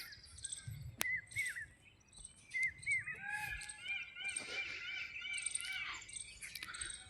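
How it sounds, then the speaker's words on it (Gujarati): Peacocks and other birds call outdoors near a village temple and maize fields under heavy, rain-threatening skies. Repeated chirps and shrill calls overlap at moderate distance, with a sharp crack near the start and a low background hum. "મોરો ને હોરો બધું બોલે છે."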